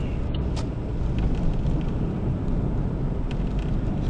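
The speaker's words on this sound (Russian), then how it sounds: "Разгоняй машину." Car accelerating during a driving lesson on a city road, a steady low engine and road rumble from inside the cabin, moderately loud and continuous with no talk.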